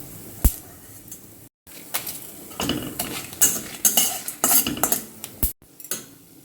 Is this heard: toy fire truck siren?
no